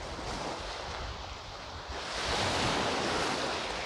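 Sea waves wash in at Kankesanthurai beach in Jaffna, Sri Lanka, a constant broadband roar with wind, swelling louder in the second half.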